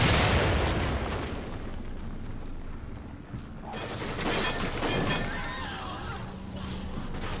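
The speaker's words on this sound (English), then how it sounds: "So how we're going to deal with this is by a grenade, and we're going to kind of bounce it around the corner." A grenade bounced around a corner bursts in the survival horror game The Evil Within: a loud, booming explosion that rolls off, then a second crackling burst of blasts and debris.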